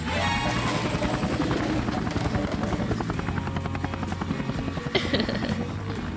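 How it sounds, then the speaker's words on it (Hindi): A helicopter runs steadily with a loud, continuous rotor chop and engine drone, close and unbroken, with a brief metallic clank near the end. "हेलीकॉप्टर लॉन्च करो।"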